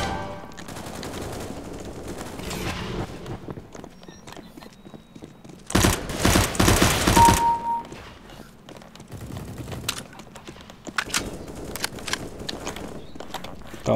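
Counter-Strike: Global Offensive gunfire: a loud, rapid automatic burst lasting over a second in the middle, with scattered single shots and footsteps around it.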